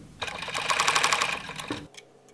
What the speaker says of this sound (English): I'm using a white thread for serging. So only the fabric will be trimmed as we serge.